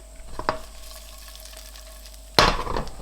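Paste with herbs hits hot oil in a pan, with a faint stir early on and then a sudden loud burst of sizzling frying that keeps crackling to the end.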